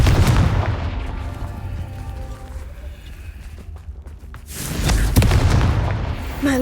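A Confringo fire spell in the Hogwarts Legacy game explodes in heavy booming bursts, one loud blast near the start and another toward the end, with quieter rumbling between them.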